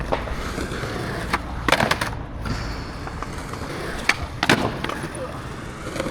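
Skateboard tre flip attempts on an unusually long hip: rolling wheels on concrete broken by several sharp, loud board clacks and landings spread irregularly across the stretch.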